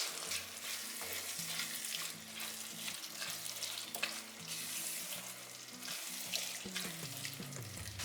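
Mutton sizzles in a pan as crushed fennel and curry leaves are stirred through, giving a soft, continuous frying hiss with scraping stir strokes and a low steady hum beneath, no voices.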